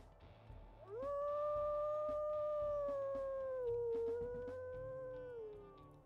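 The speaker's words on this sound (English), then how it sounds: "Let's also go ahead and we'll listen to her howls." A female wolf in a video game gives a long, sustained howl that rises at the start, holds steady, then slowly falls, heard clearly over a low game background.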